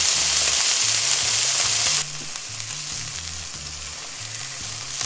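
Loud, steady sizzling of steak frying in a pan on medium heat, hissing continuously, easing slightly partway through, with faint background music underneath.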